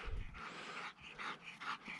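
A bird dog pants and whimpers up close, with quick breathy pants broken by short high whines in a rapid uneven rhythm; no one speaks.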